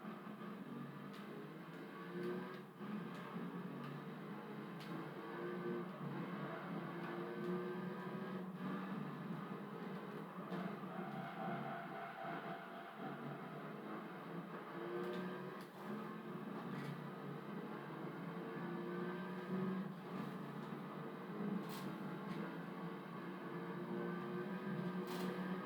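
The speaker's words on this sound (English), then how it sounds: "Yeah, this Tuscan, yeah, it had some good sounds for this car anyway." A TVR Tuscan engine in Gran Turismo 3 drones steadily for the whole stretch, a dense, fairly quiet mechanical hum with faint shifts in pitch as the car races, and no talking.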